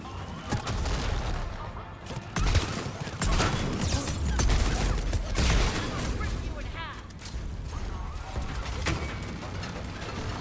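Gunfire in the Mass Effect 3 video game, bursts of sharp rapid shots and booming impacts in a dense, chaotic battle mix with a voice talking over it.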